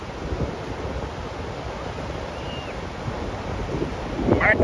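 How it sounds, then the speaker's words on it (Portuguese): Rough sea waves and gusting wind at Enseada beach in Guarujá on a stormy, rainy day, a continuous broadband roar of surf and wind buffeting the microphone, swelling louder near the end. "O mar tá agitado, hein?"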